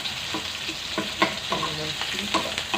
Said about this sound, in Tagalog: So, ang tosik yung mantika.